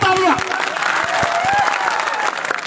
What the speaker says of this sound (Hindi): इसलिए उनके लिए बजाओ तालियां